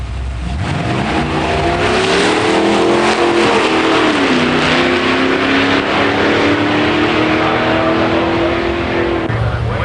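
A 1970 Buick Grand Sport 455 Stage 1 drag races a 1964 Plymouth 426 Street Ram automatic, a loud sustained V8 roar climbing steadily in pitch under hard acceleration and holding strong for the whole run.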